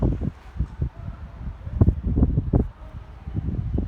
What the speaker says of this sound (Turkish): Rüzgar da çok.